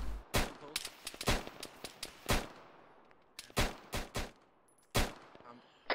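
Gunfire from the video game Arma 3 rings out in sharp, loud individual shots and short bursts, some near and some farther off, scattered irregularly with light voice chatter between them.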